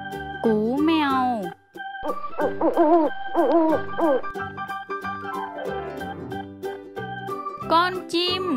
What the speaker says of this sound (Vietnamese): Cú mèo.